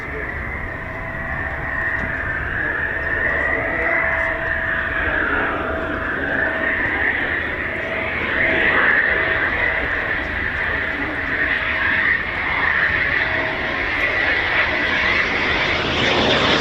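A Eurofighter Typhoon FGR4 jet landing at RAF Coningsby, a loud, sustained engine roar with a droning whine that swells and eases over about seventeen seconds, close and dominant.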